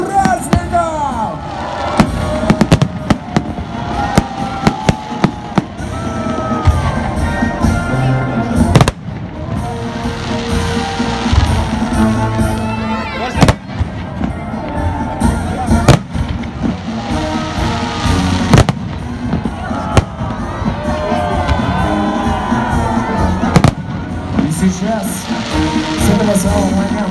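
Victory Day fireworks salute over Vladivostok, with dense booms and crackling bursts going on throughout, loud and sustained, over crowd noise and cheering, with voices talking beneath.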